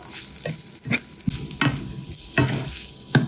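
A vegetable topping mixture with chili flakes and coriander stirred in a pan after the gas is turned off, heard as a soft sizzle punctuated by repeated scraping, knocking strokes of the spoon, close and unvoiced.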